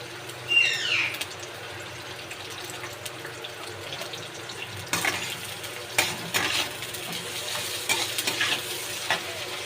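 Soybeans frying in a pan while being browned, with a steady sizzle, clattering stirs and occasional splashy water-like bursts, close and moderately loud with no talking.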